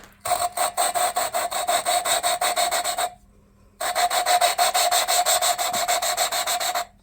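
An engine valve from a Ram 1500 5.7 Hemi is lapped against its seat, a rapid rhythmic scraping grind of metal on metal in two long bursts separated by a short pause, close and steady.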